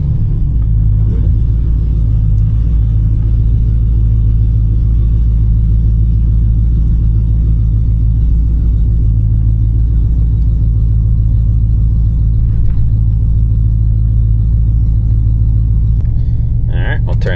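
Supercharged Hemi truck engine, a Ram Hellcat, rumbling as it moves off, a deep steady low idle growl held throughout, loud and close, with faint background sounds over it.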